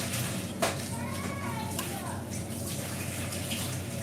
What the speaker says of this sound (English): So, give the pot a rinse.